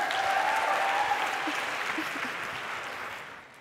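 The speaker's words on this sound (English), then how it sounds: "Give yourselves a round of applause." Applause from a mainstage lunch audience at an Ignite Talks event, steady and fairly loud at first, then slowly fading as the clapping thins out.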